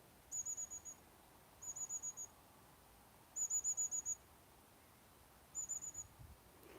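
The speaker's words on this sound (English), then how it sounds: "That high-pitched noise is a very little bird called a long-tailed tit." Long-tailed tits, very small birds moving in family groups on a countryside walk, give thin high-pitched calls in four short rapid bursts of several notes each, clear above a quiet background.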